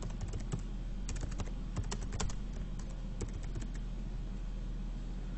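Someone types a name for a file link on a computer keyboard while uploading to Moodle, with quiet, irregular key clicks in short bursts over a steady low background hum and no speech.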